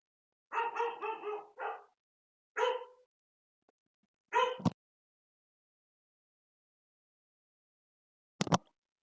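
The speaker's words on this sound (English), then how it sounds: "My dog is barking in the background." A dog barks in the background of a card game match, a quick burst of several yips and barks followed by a few isolated single barks spaced seconds apart, with short sharp knocks in between.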